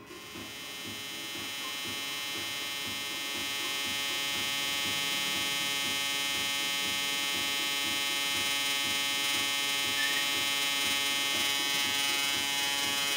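A Tesla magnifier coil system switches on and settles into a steady, loud electrical hum with a buzzing, pulsing texture, rising over the first few seconds and then holding constant with no voices.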